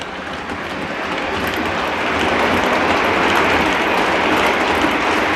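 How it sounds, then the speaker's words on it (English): A steady rushing rumble of a model railroad train running on track, continuous and fairly loud, with no voices. "People like to see it they like model railroads."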